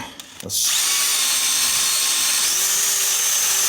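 A power drill with a 3/16 bit bores through a broken bolt held in a vise, kicking in after a few clicks and whining at a steady high pitch up close, shifting slightly in tone partway through.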